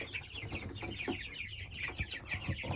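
Young chickens clucking and peeping inside a brooder on a home farm, a busy, continuous chatter of overlapping soft calls heard fairly close, with no talk.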